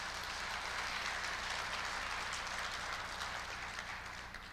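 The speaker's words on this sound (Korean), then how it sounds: "박수 보내주세요." Distant, faint applause from the audience at a university president's inauguration ceremony, a steady wash of clapping heard through the hall's ambience.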